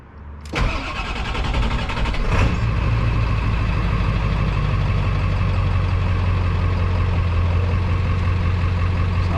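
A Ford 7.3 diesel truck engine fitted with a new turbo cranks and fires up, then settles into a loud, steady near idle that runs unbroken after the start.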